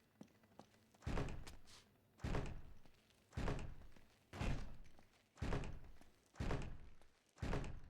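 A heavy door is pushed open in the game Uncharted 3: a series of seven deep, booming thuds arrives about once a second, each fading out before the next, with no talking.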